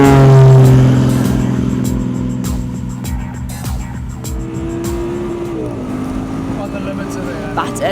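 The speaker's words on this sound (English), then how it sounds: "The Audi's extra horsepower means that Marius has the start licked" Audi Spyder launching from a race start against a Red Bull Air Race plane, the engine note climbing loud and close through gear changes as it pulls away, with a voice talking over it.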